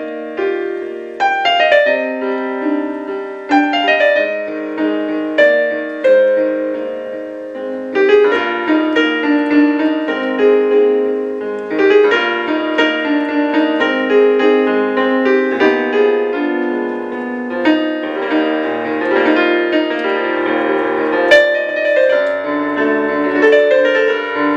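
A self-composed piano piece played solo for about 25 seconds, with flowing melody over sustained chords at a steady, fairly loud level and no talking.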